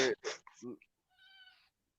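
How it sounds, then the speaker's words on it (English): An indoor cat gives one drawn-out meow right after a person speaks nearby; the call is moderately loud and clear, with no talk over it. "you are the most neediest cat I've ever encountered in my entire life"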